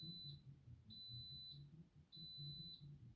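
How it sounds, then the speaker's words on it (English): A kitchen timer alarm beeps in three evenly spaced, steady electronic tones, each held about half a second, faint against a low indoor hum with no talking. "That's my timer."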